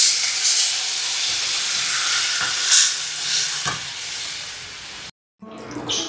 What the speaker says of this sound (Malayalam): പുളി ഒഴിക്കാം.